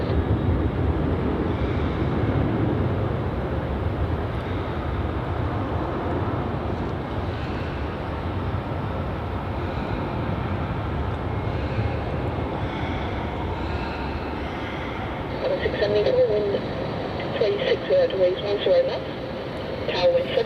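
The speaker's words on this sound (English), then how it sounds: "That was Virgin Flight VA319 heading off to Brisbane" Virgin flight VA319 taking off from Melbourne Airport bound for Brisbane, a steady distant jet roar that fades slowly, with people talking over it near the end.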